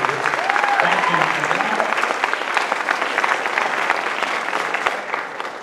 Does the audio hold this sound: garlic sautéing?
no